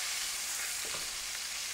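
A pan of stuffed pork fillet frying, filling the space with a dense, steady sizzle and spattering hiss, close and loud, with no voices.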